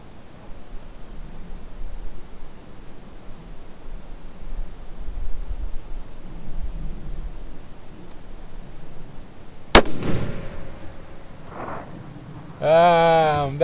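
A single sharp rifle shot from a Carl Axis II .308 rifle fired at a 1000-yard target rings out over a quiet outdoor background, followed by a brief echo and a voice.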